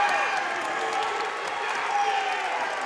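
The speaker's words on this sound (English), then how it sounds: "The crowd at Holloway wants it." College wrestling crowd at Holloway during a Wisconsin at Purdue Big Ten dual, a continuous wash of applause and cheering filling the arena, loud and sustained with scattered shouts.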